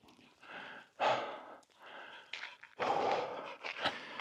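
A dog on a hiking trail pants in quick, uneven breathy bursts, close and fairly soft, with no talking over it.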